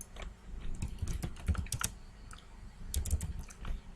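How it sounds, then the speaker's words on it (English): Fingers type a last name on a computer keyboard, a run of close, crisp key clicks in uneven bursts with brief pauses between them. "I can write last name,"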